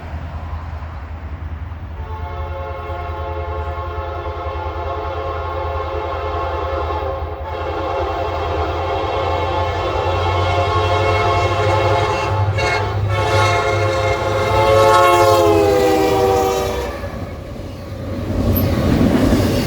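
Norfolk Southern NS 204, a freight train, rolls past at Paint Rock, Alabama, with a loud, sustained horn blast over the deep rumble of the cars and a final short horn note.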